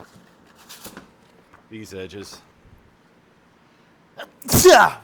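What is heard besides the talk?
person sneezing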